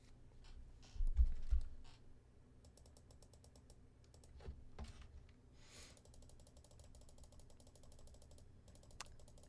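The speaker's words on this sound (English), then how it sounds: "As you hear me rapidly clicking it through the menus" Rapid keyboard and mouse clicking while navigating menus in Tetris Effect: Connected, a dense run of light taps and clicks with a heavier thump near the start, fairly close and without speech.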